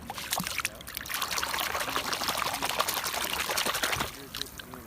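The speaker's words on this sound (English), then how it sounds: "I gotta rinse this one out." Water trickles and pours steadily for about four seconds as a seashell is rinsed out on a beach shell-collecting outing, splashing close by, then stops abruptly near the end with a few faint drips.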